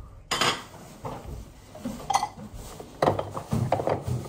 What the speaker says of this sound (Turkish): O dışarıdaki ses ne? Annem süt bidonu getirmiş.